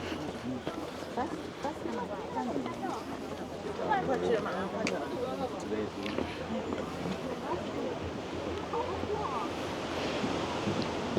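Ocean waves surging against coastal rocks on the Izu Peninsula in Japan, a washing roar with wind buffeting the microphone, while people talk over it throughout.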